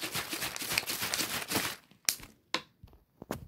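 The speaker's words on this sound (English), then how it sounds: "I was shaking a water bottle." A water bottle is shaken vigorously: dense crinkling, rattling plastic and sloshing, then a pause broken by a few sharp, separate shakes, close and moderately loud, with no talking.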